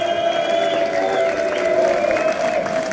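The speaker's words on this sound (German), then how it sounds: "Ein dicken Applaus am Arsch." Applause and cheering from a crowd at a gaming event finale, a steady wash of clapping with some voices mixed in throughout.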